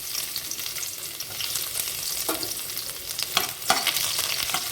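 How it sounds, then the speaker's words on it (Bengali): Chopped garlic frying in oil in a wok gives a steady, bright sizzle, with a few sharper clinks and scrapes of stirring near the end, with no talking. "কড়াইতে তেল দিয়ে ওভেনে বসিয়ে দিলাম, আর রসুন কুচিটা দিয়ে দেব।"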